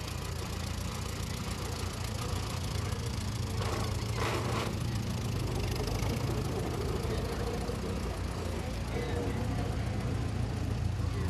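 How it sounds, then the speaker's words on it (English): A small old tractor engine runs steadily through a Christmas parade in White County, a continuous mid-low rumble with crowd noise and faint voices around it. "Neat little tractor there, no doubt."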